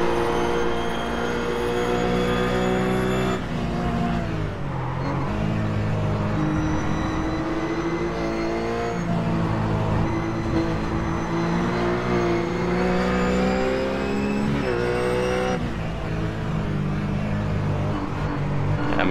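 RUF race car in iRacing, engine held at steady high revs through a corner with harmonic pitch sweeps as the throttle is fed in gently, continuous and loud with no talk.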